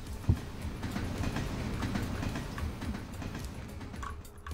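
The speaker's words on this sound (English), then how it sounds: "The train. I'm sure that's an automatic death." In the video game Streets of Rogue, a train rumbles past in a continuous clattering stream of wheel noise at moderate volume, with a sharp knock near the start; no voices are heard.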